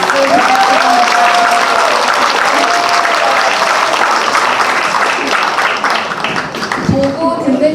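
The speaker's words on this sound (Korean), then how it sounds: "다시 한번 따뜻한 격려의 박수 부탁드립니다." Loud, sustained audience applause at a charity evening stage performance fills nearly eight seconds, thick crowd clapping that thins slightly near the end while voices carry over it.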